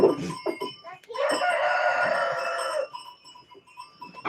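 Chickens cluck and squawk nearby, with a sustained loud burst of agitated fowl calls in the middle of the stretch and quieter clucks around it.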